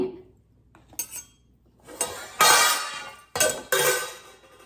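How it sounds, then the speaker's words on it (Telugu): A small bowl of oil set down in a home kitchen, with a few close, sharp clinks and clatters of dishware separated by brief quiet gaps; no one speaks. "నూనె గిన్నె పెట్టుకుని"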